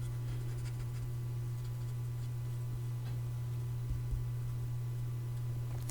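A pencil scratches softly over paper while shading a shadow on a drawn figure, the faint strokes sitting under a steady low electrical hum.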